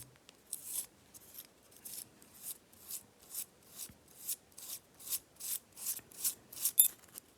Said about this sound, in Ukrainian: Тут відкрутити. Відкручується легко, доволі.